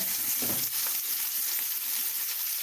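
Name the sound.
onions frying in a pan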